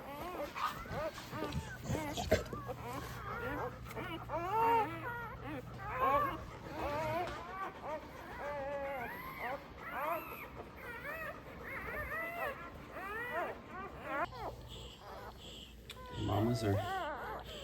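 Newborn Labrador Retriever puppies whimper and squeal in high, wavering cries, overlapping and close, with a person talking over them throughout.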